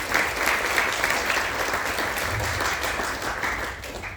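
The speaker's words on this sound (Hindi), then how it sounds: "जोरदार तालियों से स्वागत" A crowd claps steadily and loudly for a few seconds, the applause fading slightly near the end.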